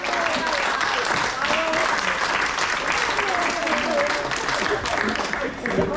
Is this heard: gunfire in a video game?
no